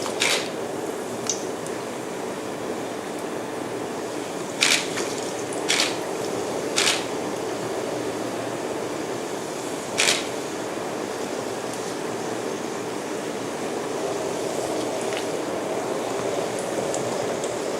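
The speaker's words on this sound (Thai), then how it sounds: "ทีนี้ก็นำลงทอดเลยค่ะ" Battered fragrant bananas deep-frying in plenty of hot oil in a home kitchen: a steady, close sizzling hiss broken by a few sharp pops and crackles, with no talking.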